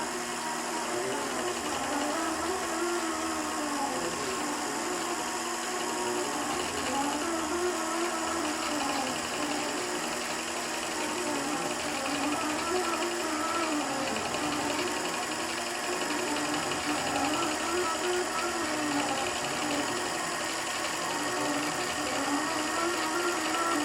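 Helen's iQ sewing machine stitches continuously, a close, steady motor whir with a rhythmic pulsing that runs unbroken for more than twenty seconds.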